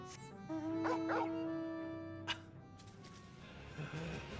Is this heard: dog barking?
yes